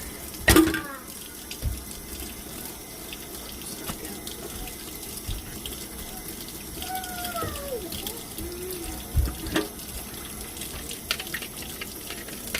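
Water runs from a faucet into a kitchen sink as a soft, steady splashing wash, broken by a few clattering knocks from dishes or utensils and a faint voice.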